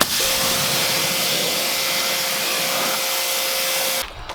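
Water spraying onto very dirty car wheels in cold winter weather, a loud steady hissing rush heard up close that holds without a break before cutting off abruptly at the end.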